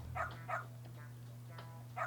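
A dog barks in the Lost Judgment video game, with three or four short yips spaced about a second apart over a steady low hum of game ambience.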